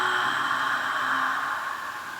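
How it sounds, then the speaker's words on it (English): Ujjayi breathing, a slow ocean-like breath drawn at the back of the throat, heard as a soft, steady hiss close by that fades slightly toward the end, with no talking. "Now we're going to move into a breath that's called an Ujjayi breath, or an ocean sounding breath."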